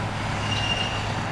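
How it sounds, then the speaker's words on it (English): Road traffic rumbles steadily through a small town in Newburg, Missouri, a loud continuous low drone of passing vehicles close by with no distinct breaks. "sorry for the traffic too. It might be kind of loud here,"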